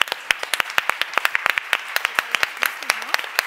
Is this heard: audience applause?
yes